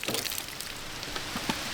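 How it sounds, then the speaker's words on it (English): Rain falling outdoors at an outdoor shooting spot, a dense steady hiss of drops pattering on surfaces close by, with no talking. "now it's raining on us"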